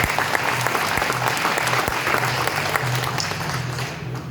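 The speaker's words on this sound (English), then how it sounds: "please give them a round of applause" Dense, steady applause from an audience at a casino opening ceremony, loud and continuous throughout with a low droning tone underneath, tapering slightly at the very end.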